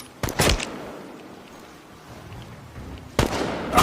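Gunfire from a shootout in the video game Chernobylite: a quick pair of loud, sharp shots, a quieter stretch of ambient rumble, then another burst of close shots near the end.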